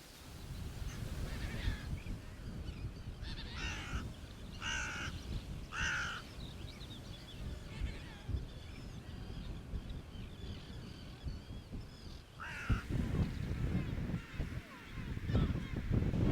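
A flock of coastal birds (gulls, glossy ibises, herons, spoonbills and cormorants) calls from a distance with several harsh cawing bursts over steady wind and low rumble near the shore of a nature reserve.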